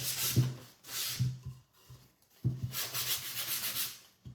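Sandpaper rubs across a painted wooden sign in short bursts of scratchy strokes with pauses between, close and fairly quiet, with no talking.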